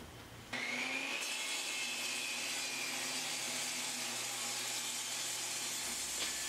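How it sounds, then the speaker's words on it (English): A scrap piece of maple hardwood is trimmed with a power tool, a steady loud whirring, cutting drone that runs continuously for about five seconds and then stops, heard alone with no talking. "I'm just going to trim down a scrap piece of hardwood, in this case it's maple"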